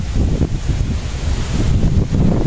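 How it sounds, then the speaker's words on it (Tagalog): Strong wind buffeting a microphone at the Mount Samat overlook in Bataan, a loud, rumbling, gusting roar that swells and eases continuously with no voices. "Sarap naman ang hangin dito."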